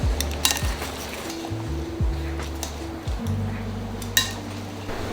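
Salad of steak, oregano and squeezed lemon being tossed in a bowl, with repeated close clinks and scrapes of utensils against dishware and a soft rustle of leaves, no voices.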